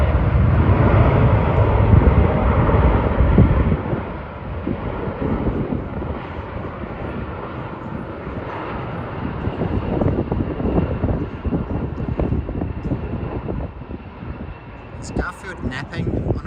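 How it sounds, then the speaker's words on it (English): A JAL airliner taking off at Haneda Airport roars loudly at first, then its engine noise eases into a steady rumble with wind buffeting the microphone, while a person talks over it. "here's another JAL flight taking off here"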